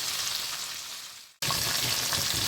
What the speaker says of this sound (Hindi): बैंगनों को ऑयल में दोनों साइडों से अच्छी तरह से फ्राई कर लें।